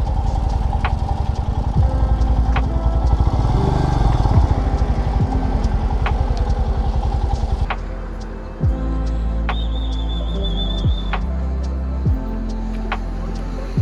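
A Royal Enfield Himalayan 411 motorcycle idles close by with a steady, even thump, the engine note shifting slightly partway through as other sounds come and go around it; no one speaks.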